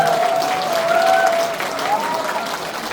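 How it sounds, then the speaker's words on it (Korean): Audience applause at a Democratic Party member education lecture in Cheongju, steady broadband clapping from a crowd throughout, with a voice talking over it. "큰 박수 해주십시오"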